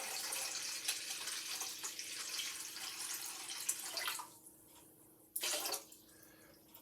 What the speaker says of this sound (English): Here I've got hot water in a measuring cup. We need 900 grams of water.